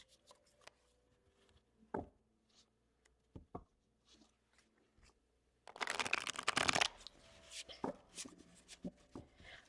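A new avian tarot deck with stiff, slightly damaged cards is handled with scattered soft taps and slides, then riffled in a dense, loud shuffle lasting about a second, followed by more close card handling. No one speaks.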